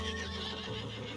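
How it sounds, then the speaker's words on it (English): A horse in Red Dead Redemption 2 lets out a loud, drawn-out whinny up close over a continuous game background. "Spastic horse."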